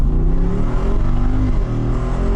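A Jeep Wrangler 392 V8 with a performance exhaust revs and accelerates, giving a loud, deep, rumbling roar with rising harmonic tones, heard close and steady throughout.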